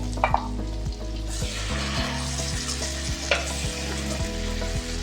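A potato, brinjal and green pea gravy curry with tomato puree sizzles steadily in hot oil, with occasional stirring scrapes and a soft tonal melody running underneath.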